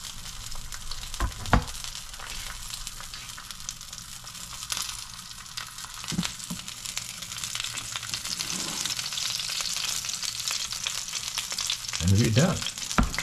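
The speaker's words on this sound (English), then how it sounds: "And here I just give it one last flip back onto the skin side so that it will maintain that crisp." Salmon fillet frying skin-side down in a hot pan, a steady close sizzle throughout with a few utensil scrapes and clatters as the fish is flipped back onto its crisp skin near the end.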